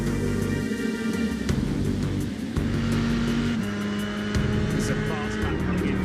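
A racing car on a fast lap, a steady loud engine drone with shifting pitch and gear changes, heard under continuous commentary.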